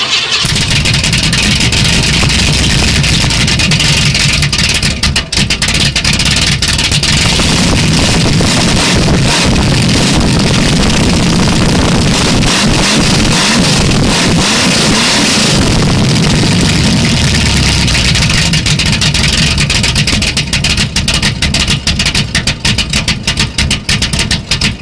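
A 1955 Buick Super engine cranks and fires up, then runs loud and rough with a raspy, leaky exhaust rumble and occasional revs throughout.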